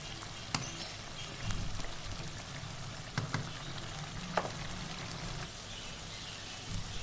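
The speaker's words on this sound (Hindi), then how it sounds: "साथ साथ चम्मच भी हिलाते रहेंगे ताकि ये हमारा मसाला जले ना" Masala for a Pakistani-style beef karahi fries in a pan with a steady close sizzle, broken by occasional sharp clicks and scrapes as a spoon stirs it.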